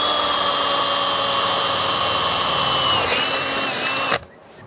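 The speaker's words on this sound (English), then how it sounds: "So we're going to have to re-drill two new holes to cater for the battery mount." A power drill bores two new holes through the frame of a Bafang mid-drive e-bike to hold a battery mount, a steady loud whine with a pitch shift near the end before it cuts off abruptly.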